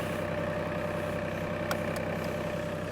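A Mahindra 2100 Series tractor engine idles steadily at close range, giving a continuous low rumbling drone with a couple of faint metallic ticks and no talking.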